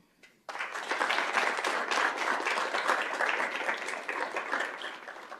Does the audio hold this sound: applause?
yes